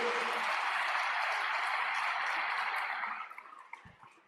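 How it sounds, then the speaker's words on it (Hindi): Audience applause for Nana Patekar at a Brahma Kumaris gathering on water conservation, a steady dense clapping that holds for about three seconds, then thins out and fades to scattered claps. "मैं बहुत बहुत दिल से चाहता हूं एक बार आप तालियां बजाएं मेरे पिता तुल्य पद्मश्री नाना"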